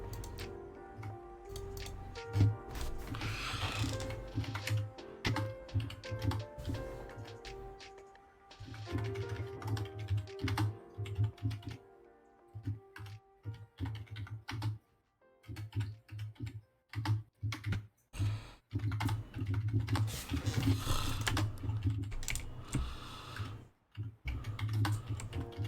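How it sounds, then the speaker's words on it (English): Computer keyboard typing runs in fast, irregular bursts of close key clatter with brief pauses, played against a low steady hum. "I know I'm aware of typing something"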